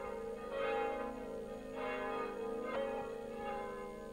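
Church bells ring the Gloria around midnight at the Easter Vigil on Korčula, sounding distant and fairly faint, with several swelling rings and a sustained humming tone beneath them.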